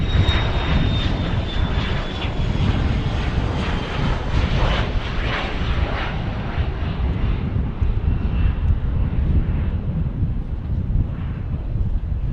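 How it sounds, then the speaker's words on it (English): An Embraer Praetor business jet departs runway 13 left with a loud, broad engine roar and a high whine. The roar slowly fades as the jet climbs away, with some wind buffeting on the microphone. "Embraer Praetor departing for FlexJet right in front of us here on 13 left"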